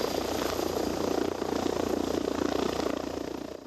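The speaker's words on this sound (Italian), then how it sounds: "sul posto anche l'elicottero di Treviso Emergenza" The Treviso Emergenza rescue helicopter at a motorway crash scene after a truck pile-up, its rotor beating loud and steady from nearby.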